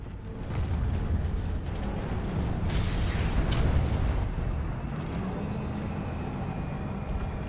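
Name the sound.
Vanguard tank destroyed, explosion in Planetside 2 video game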